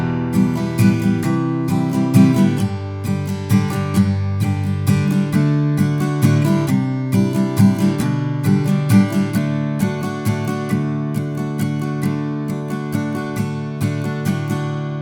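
Acoustic guitar strumming the chords of break 2 from a song, a steady waltz-like rhythm of bright strummed chords, loud and close, played alone without any voice.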